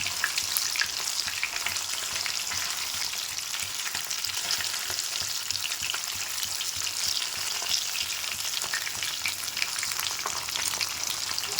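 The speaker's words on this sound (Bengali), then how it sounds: "পাবদা মাছ ভাজতে কিন্তু একদমই বেশি টাইম লাগে না, মাত্র 2 থেকে 3 মিনিট এপার ওপার করে ভালোভাবে ভেজে তুলে নিলেই" Pabda fish fry in a pan, a dense, continuous crackle and hiss of hot oil that stays even and close for the whole stretch, with no talking.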